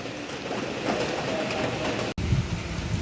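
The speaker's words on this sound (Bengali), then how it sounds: "আমাদের এইদিকে কত বৃষ্টি হচ্ছে" Evening rain falling steadily as a broad, even wash of hiss and patter, close and fairly loud, with a brief dropout near the end and no speech.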